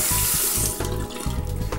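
Water from a bathroom tap runs steadily into a sink to rinse after a shave, a close, continuous splashing stream with no voices.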